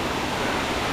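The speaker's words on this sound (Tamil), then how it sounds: "இதுதான் அந்த வாட்டர் ஃபால்ஸ்." Waterfall at Yercaud with low water flow, a steady broadband rush of falling water filling the moment, continuous and fairly loud with no talk.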